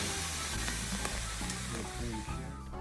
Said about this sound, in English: At this point, I like to add some cream sherry to deglaze the skillet and smother the morels